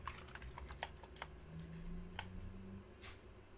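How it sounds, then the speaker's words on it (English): Modifier keys on a Commodore Amiga 500 keyboard being pressed during a retro repair, producing a handful of quiet, irregular clicks over a faint steady hum. "Let's try these modifier keys."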